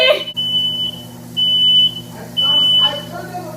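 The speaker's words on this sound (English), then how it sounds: "the alarm has to go off soon" A kitchen smoke alarm gives three loud, shrill, evenly spaced beeps, each about half a second long, over a steady low hum with a voice at the start.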